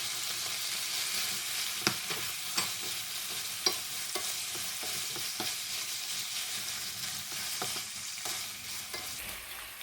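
Pork slices and dried tofu with soy sauce and garlic chive shoots stir-fried in a wok under a continuous loud sizzle, punctuated by repeated sharp spatula scrapes and clacks at an uneven rhythm, with no voices.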